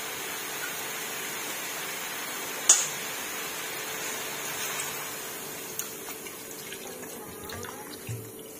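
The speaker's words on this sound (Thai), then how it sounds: "หลังจากนั้นเติมน้ำลงนิดนึงค่ะ" Water poured into a cooking pot of papaya and chicken curry, a soft continuous running-water hiss with a splashy knock early on and a few faint clunks later.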